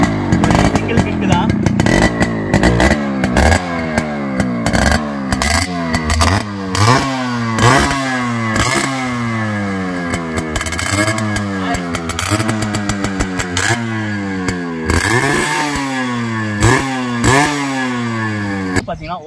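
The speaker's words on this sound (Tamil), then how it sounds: "இப்போ இந்த வண்டியை வந்து அழகாக ஸ்டார்ட் பண்ணி காட்டுறேன். இதோட பீட் சவுண்டு எப்படி இருக்குன்னு பாருங்கள்." A restored Yamaha RX two-stroke motorcycle engine, started with a single kick, runs loud and close with a rapid, rattling two-stroke beat and repeated throttle blips rising and falling throughout.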